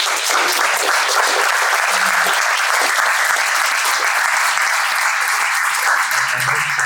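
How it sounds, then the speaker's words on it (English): A conference audience applauds panelists after a discussion, with loud, dense, sustained clapping from a sizable crowd that continues without a break the whole time. "give a round of applause for our panelists."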